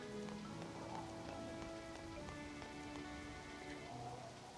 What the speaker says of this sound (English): Because especially since it's raining.